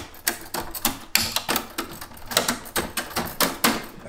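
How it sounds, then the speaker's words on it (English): Old typewriter once used by Dr. Robert Laws at Stone House in Livingstonia, struck in a quick run of about a dozen sharp, close mechanical key clacks with a brief pause midway. "He was using this typewriting machine."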